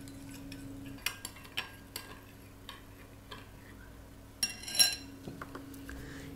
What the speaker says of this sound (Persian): روی هر کدوم از این ژله ها 1 لیوان آب جوش میریزم، هم میزنم تا یه مقداری ذرات ژله حل بشه